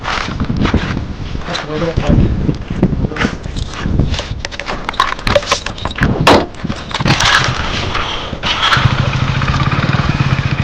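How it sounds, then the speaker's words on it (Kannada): A motorcycle engine runs nearby, revving unevenly with bursts and sputters beneath frequent excited talk among several people on a street in Gadag, North Karnataka. "ಗಾಡಿ ಬಂದ್ ಮಾಡಿ ಗಾಡಿ ಬಂದ್ ಮಾಡಿ"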